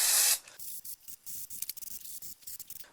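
A spray can lays a second coat of finish onto a 3x3 helicopter puzzle in one strong hiss lasting about a third of a second, followed by faint rustling and light handling sounds.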